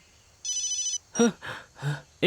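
A telephone ringing in one short electronic trill burst, followed by a few louder thumps and noises nearby.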